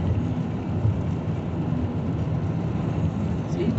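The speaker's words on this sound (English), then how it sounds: "Rain falling." Rain falling steadily across countryside farmland, a dense, continuous wash of noise with a low rumble, loud and unbroken throughout, with no talking.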